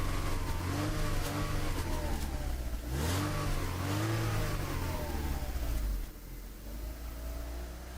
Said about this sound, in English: I want the engine running fast and hot.